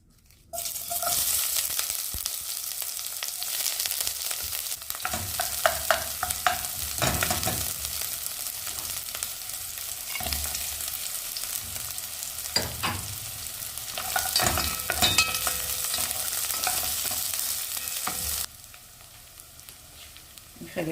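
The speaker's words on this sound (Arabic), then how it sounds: "راح نخلي شوية زيت، ما نخلي هواية لأنه الدجاج أصلا بيدهن، بس على مود نحمس البصل وباقي المكونات" Sliced onions and other ingredients frying in a little oil for Yemeni smoked chicken mandi, a steady close sizzle with intermittent stirring scrapes throughout, easing off near the end.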